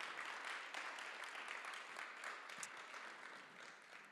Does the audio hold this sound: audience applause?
yes